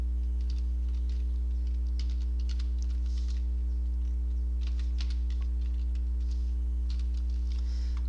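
Code typed on a computer keyboard, with irregular bursts of light key clicks over a steady, loud mains hum.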